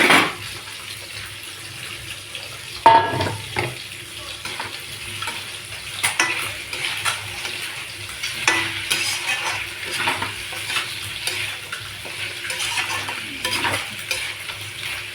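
Potatoes stirred into sautéed meat curry in a pot, with repeated scraping and clinking of a spoon against metal over a continuous sizzle, close and fairly loud.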